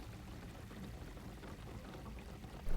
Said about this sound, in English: I really like the water dripping down here